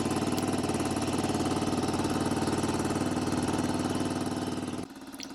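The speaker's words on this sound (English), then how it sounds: "All the lights will go out, but the engine will keep running." A Harley Davidson MT350 military motorcycle engine runs steadily with a loud, close, throbbing idle for nearly five seconds, then cuts off abruptly into near silence.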